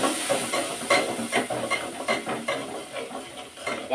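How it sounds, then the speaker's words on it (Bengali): Turmeric, chili and spice powders with salt being fried in a pan, a steady sizzling hiss broken by repeated stirring scrapes at a fairly even rhythm, close and moderately loud, with no talk. "হলুদের গুঁড়া মশলার গুঁড়া মরিচের গুঁড়া আর একটু লবণ দিয়ে দিব আর মশলাগুলোকে কষিয়ে"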